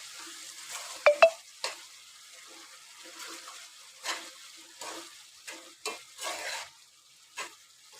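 Shredded cabbage frying in oil in a pan for a cabbage and peas curry, heard as a faint sizzle broken by several sharp clinks and scraping stirs at irregular intervals.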